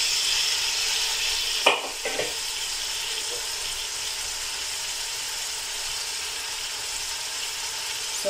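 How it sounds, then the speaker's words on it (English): Tomatoes with salt fry in a pan with a steady, even sizzle throughout, plus a brief clatter of stirring near the start and no voices. "add in some salt to ensure that the tomatoes cook really fast and remove the juices in them"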